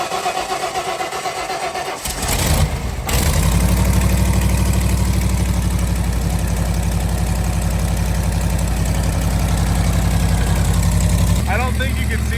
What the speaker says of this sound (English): This motor also runs off natural gas, as you can see right here.